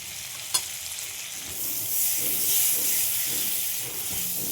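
Onions sizzling and frying in a hot pan with butter while chow mein is being cooked, a steady hiss that swells after a brief clink near the start, with soft stirring beneath.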